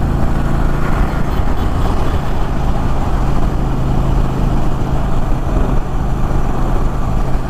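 A 2024 Indian Challenger Dark Horse motorcycle cruises on the highway, its engine holding a steady, continuous drone around 3000 RPM, mixed with road and wind noise from start to finish.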